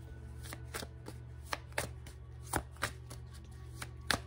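Tarot cards being shuffled and handled up close, a series of crisp irregular slaps and riffles spaced about half a second apart over a low steady background hum.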